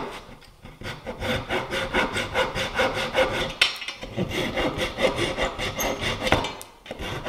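Hand saw cutting through glued wood, a steady back-and-forth rasping of even strokes with a brief pause midway, close and loud without any talking.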